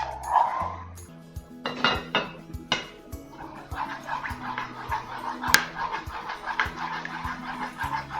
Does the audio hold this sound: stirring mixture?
yes